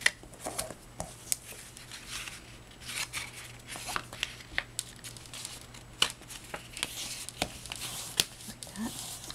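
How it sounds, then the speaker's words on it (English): A card base of Recollections cardstock is folded by hand, giving soft crinkles, light taps and papery creases in quick irregular bursts, close and fairly quiet, with no voices. "Fold it."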